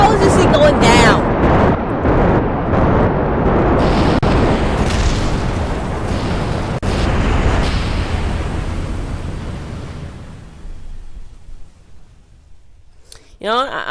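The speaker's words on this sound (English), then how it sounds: "So, in all terms, it pretty much just exploded miserably." A rocket blowing apart in Kerbal Space Program, a loud rumbling boom with crackling bursts that rolls on for several seconds before fading, followed by a brief sharp noise at the end.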